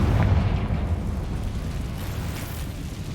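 The Confringo fire spell explodes in the Hogwarts Legacy video game, a loud, deep rumbling blast that holds steady and slowly fades over a few seconds.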